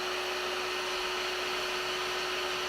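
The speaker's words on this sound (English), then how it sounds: "I'm going to use the heat gun on low heat and just dry that paint" A heat gun on its lowest setting dries chalk paint over a transfer on a wooden deer cutout, giving a steady, even whooshing hiss with a faint electrical hum throughout and no voices.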